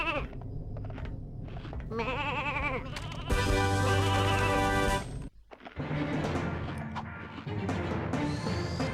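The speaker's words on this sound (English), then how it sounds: "A deadly machine that turns enemies into sheep." Bleating sheep from the Sheepinator weapon in Ratchet & Clank 2, repeated wavering baa calls over busy game effects, music and a loud crash-like burst in the middle.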